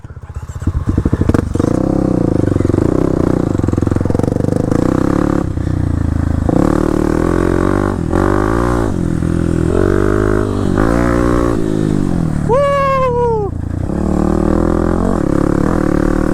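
Kawasaki KLX300 supermoto fitted with off-road style tyres, ridden on gravel roads, its single-cylinder engine loud and close, revving and shifting through gears with clatter and scraping over rough ground.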